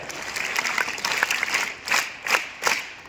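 Audience applause at a junior college event after a dance performance, scattered claps swelling into a few louder bursts of clapping, moderately close, no talking.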